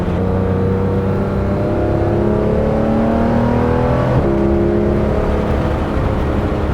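A Porsche GT3 RS engine revs and whines steadily, its pitch climbing and shifting as the PDK gearbox shifts through gears, loud and close with no voices.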